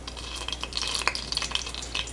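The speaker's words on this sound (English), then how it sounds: "We're gonna add our olive oil." Olive oil poured into a pan over medium heat for a clam and peanut stew, with light, irregular crackles and pops of sizzling close by.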